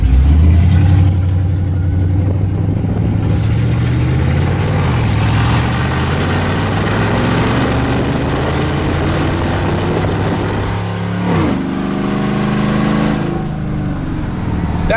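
A very loud truck engine drones steadily, its pitch swelling and dipping as it revs up and settles back, close and continuous throughout.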